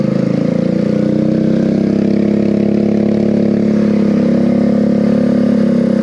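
A mud mower riding mower with ATV tires drives in first gear, its engine a loud, close, steady drone that rises slightly in pitch and holds throughout.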